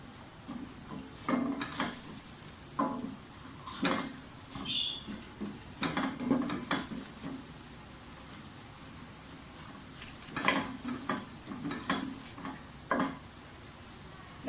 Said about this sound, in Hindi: लहसुन अदरक को अच्छी तरह से फ्राई कर लें।